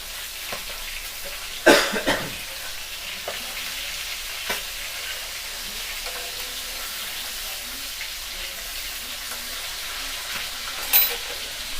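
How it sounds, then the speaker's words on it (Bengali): Shimul fish frying in a pan of hot oil, a steady close sizzle throughout with a couple of sharper clatters from turning the pieces. "মাছটা আমাদের 1 পিঠ ভাজা হয়ে গেছে। আমরা ঠিক উল্টে দিচ্ছি,"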